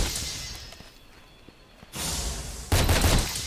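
Rapid-fire bowgun shots in the action game Monster Hunter World: Iceborne: a few sharp bursts with whooshing blasts, separated by quieter stretches, loud and alone without talk.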